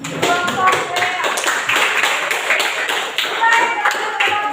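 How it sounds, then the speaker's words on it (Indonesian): A classroom group claps for a team after a discussion session. The quick, irregular hand claps come from nearby, continue steadily for several seconds, and are fairly loud. "silakan tepuk tangan untuk kelompok Lea"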